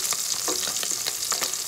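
Tinapa, smoked fish, frying in a pan with a steady bright sizzle of hot oil and small popping crackles throughout, close and continuous with no voices.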